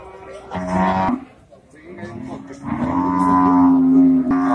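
Limousin cattle lowing loudly nearby, two long moos separated by a short pause, with a faint voice in the background.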